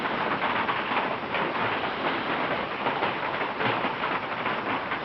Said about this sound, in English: So, rainy day from the A barn.